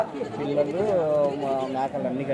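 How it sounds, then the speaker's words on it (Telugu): A goat bleats in a long, wavering cry, close and loud, with a brief second call near the end, at a livestock market in Kadiri. "మేకలు ఉన్నాయి, పిల్లలు ఉన్నాయి."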